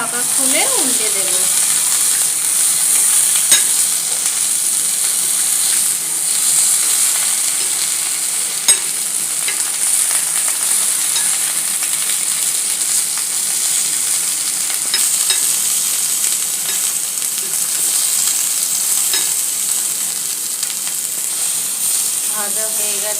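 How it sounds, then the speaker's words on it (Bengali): Chicken paturi sizzles steadily in a covered pan, a loud, even frying hiss that runs unbroken for the whole stretch with only a few faint clicks. "এক সাইডটা হালকা ভাজা হয়ে গেছে।"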